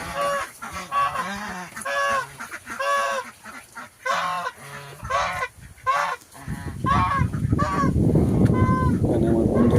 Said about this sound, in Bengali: দেখো প্রচুর হাঁস।